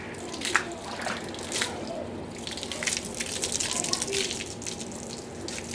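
Water sprays and splashes from a hose, an uneven gushing with bursts and patters, moderately close, in an outdoor setting with no clear talking.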